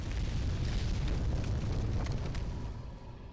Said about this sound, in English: I didn't realize you would blow fire that close.